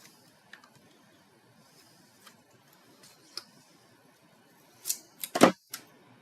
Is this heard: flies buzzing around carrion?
no